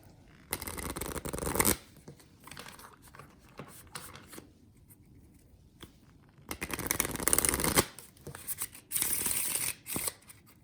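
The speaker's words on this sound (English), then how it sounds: "So let's see if we can get me shuffling on screen." Sturdy, flexible game cards from the Gladius board game being shuffled up close, two bursts of riffling and flapping separated by quieter handling, with no talk.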